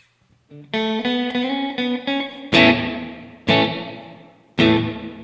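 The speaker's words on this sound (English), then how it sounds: "Do you hear that reverb? It's kind of got a wobble to it." Sustained electric guitar chords drenched in reverb with a gentle wobbling modulation, followed by three strummed chords ringing out with long washy tails.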